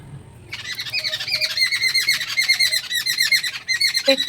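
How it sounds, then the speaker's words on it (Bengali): Several birds squawk and chirp in rapid, overlapping bursts as they quarrel, loud and close, starting after a brief quiet moment and continuing without pause. "পাখিটা কি ঝগড়া লেগেছে।"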